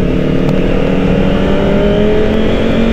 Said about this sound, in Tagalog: maririnig mo na rin yung awit ng inline 4 pag umabot na ng ganong speed